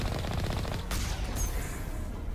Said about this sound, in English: Those little cannons, rocket-firing cannons. The heavy turret, as they call them.